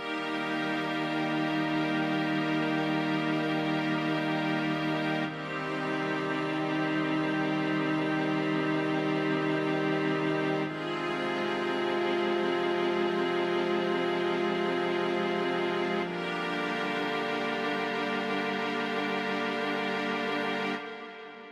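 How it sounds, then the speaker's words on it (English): Recreated string section from the intro of a song, with sustained layered string chords that change in four long, smooth steps, steady and alone without talk. "One of the first things that appears in the intro is the strings, which sound like this."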